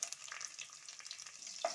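Chopped green chillies hit hot oil with asafoetida and mustard seeds, giving a short, soft, even sizzle with faint crackles, close and on its own.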